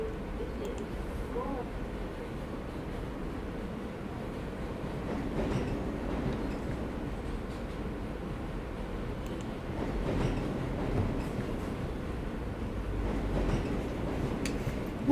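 Interior of a moving metro train, a steady loud rumble with rhythmic wheel clatter and faint squeals, a voice now and then speaking over the din.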